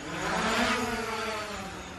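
DJI Mavic Pro drone lifting off, its propellers spinning up into a steady, fairly loud whir that swells slightly and then holds, with no voices.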